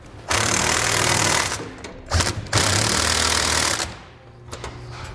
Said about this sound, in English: with a 3/4 inch socket, we're going to tighten all of our hardware, holding our center section in place